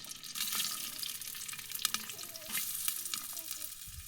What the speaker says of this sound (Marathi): मडकं तापायला लागलं तर तेल टाकून घेते पण आपल्या आता कांदा टाकून घेते